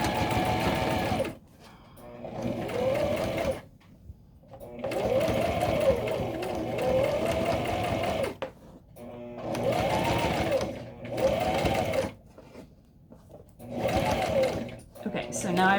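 A sewing machine stitches a tote bag in several loud bursts of rapid mechanical whirring, stopping and starting between seams, with a voice talking during the pauses.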